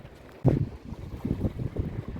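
Gusty wind buffets the microphone outdoors in Rome in low, rumbling bursts, with a sharp gust near the start followed by uneven waves of blustery noise.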